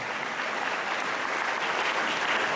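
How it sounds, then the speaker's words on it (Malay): Steady, dense applause from a large audience filling a school hall at SMK Bandar Serikir during a Malaysia Book of Records declaration ceremony, sustained at an even level throughout with no voices. "Jadi warga Dewan bagi tepukan hebat."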